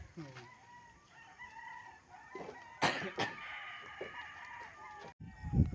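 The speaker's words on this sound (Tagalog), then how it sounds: "Ang daming manok mga Pinoy. Oh, ang gaganda ng manok." A rooster crows loudly nearby, a long strained call in the middle, with other fowl clucking and calling around it.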